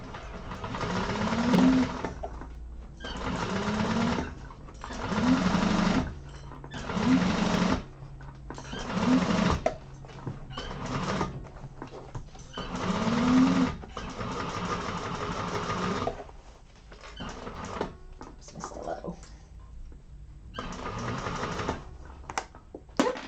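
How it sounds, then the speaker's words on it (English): A sewing machine runs in repeated bursts of stitching as it sews a second row of strengthening stitches around a thick vinyl hobo bag, with short pauses between runs and no talk. "I'm going to do a second row of strengthening stitching around just because I'm using a thicker vinyl"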